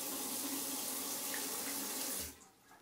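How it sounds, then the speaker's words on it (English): Water runs in a strong, steady hiss from a newly installed bathroom faucet, close and alone, then cuts off near the end. "we've turned the water back on"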